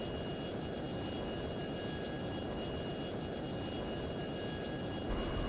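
F-22 jet in F-22 Total Air War coming in to land at low throttle, a steady engine roar with sustained whining tones, even and unbroken throughout.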